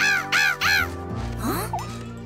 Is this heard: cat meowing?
no